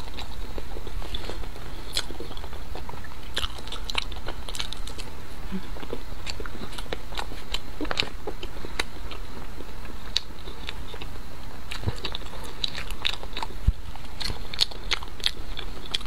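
Someone eating lü da gun, a soft glutinous rice roll filled with plenty of bean paste, in close-up: sticky bites and moist chewing with small crackles and clicks, steady and near, no talking.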